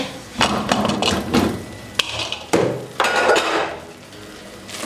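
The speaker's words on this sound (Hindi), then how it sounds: "अब ढक्कन खोल लेंगे" A metal lid is lifted off a cooking pot of dal with a few loud metallic clanks, clinks and thuds close by, followed by a softer hiss and rattle.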